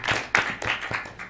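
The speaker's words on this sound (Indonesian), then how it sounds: "Tepuk tangan untuk Mujtahidin." A handful of sharp, distinct claps from an audience at a cultural stage event, about five quick hand strikes in an uneven rhythm, fairly close and moderately loud.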